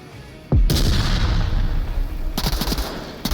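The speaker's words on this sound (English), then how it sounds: "That actually might have been a frag grenade." A frag grenade blast in a multiplayer shooter game: a sudden loud boom that trails off into rumbling, followed by a few faint sharp pops near the end.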